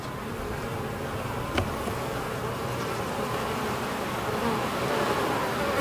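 Honey bees swarm around an opened hive during an inspection, giving a dense, continuous buzz that is close and steady throughout, with no talking.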